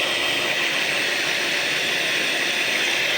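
An electric beater whips eggs with sugar, giving a loud, steady, unbroken motor whine across the whole short stretch with no talking.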